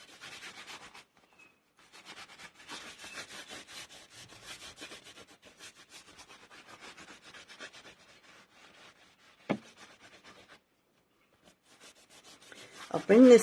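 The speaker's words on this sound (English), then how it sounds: "I'm going to bring back the white a bit there by just rubbing it in." White paint being rubbed in by hand on a surface, soft repeated scratchy rubbing strokes, faint and close, with a sharp knock near the end.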